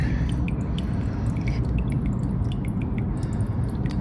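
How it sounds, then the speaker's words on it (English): Water running and dripping inside a blocked household sewer line, a steady close trickle with scattered drips and gurgles, no talk. "I can hear water running."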